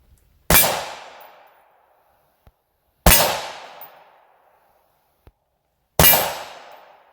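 Three M855 ball rounds fired from a 20-inch barrel strike a Predator Level III+ armor plate at an outdoor range, each a sharp, loud metallic clang with a ringing decay, spaced about three seconds apart.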